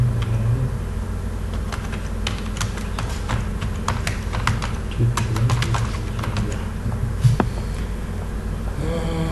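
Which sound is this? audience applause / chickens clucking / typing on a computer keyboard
typing on a computer keyboard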